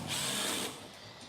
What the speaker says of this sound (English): These little impact wrenches.